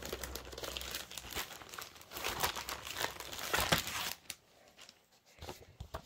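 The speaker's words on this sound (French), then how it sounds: "Alors, le patron, je vais l'enlever de l'enveloppe" Paper sewing pattern pulled from an envelope, close crinkling and rustling that runs steadily for about four seconds and then tapers into a few soft rustles near silence.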